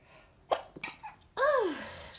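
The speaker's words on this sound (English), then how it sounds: "I'm gonna sneeze." A single person sneezes indoors, a short inhale followed by one loud, sharp burst that trails off into breath.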